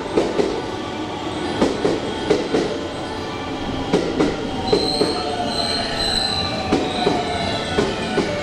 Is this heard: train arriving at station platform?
yes